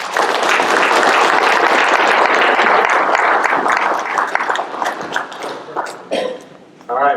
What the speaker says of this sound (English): thank you for that thundering applause